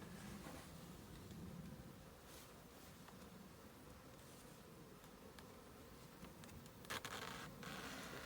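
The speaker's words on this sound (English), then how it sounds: "Oh yeah, that's a few more bees." Faint, steady buzzing of many honey bees from a swarm being moved into a nucleus hive, a continuous hum at low level with occasional soft rustles and taps nearby.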